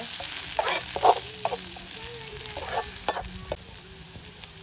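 Mustard seeds and dried chillies sizzle in hot oil with scattered crackles and pops, accompanied by occasional stirring scrapes, steady and close, no talking.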